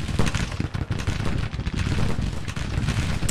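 Cannon and artillery fire in the Grand Tactician Civil War strategy game, a dense, continuous barrage of overlapping booms and blasts rumbling loudly throughout without pause.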